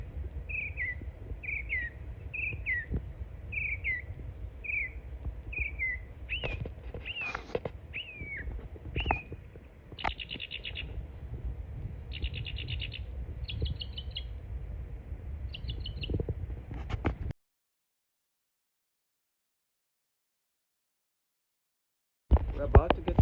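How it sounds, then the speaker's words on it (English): A bird calls outdoors in repeated short chirps and whistled notes, fairly near, over a steady background hum. The sound cuts to silence near the end, then some noise returns. "that bird is calling me"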